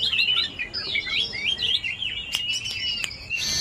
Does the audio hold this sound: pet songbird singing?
yes